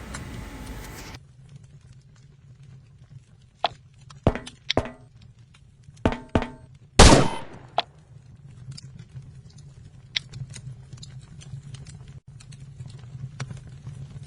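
Gunfire in the survival video game Last Island of Survival, a handful of sharp separate shots and short bursts spaced irregularly over a quiet low hum, with faint clicks between them.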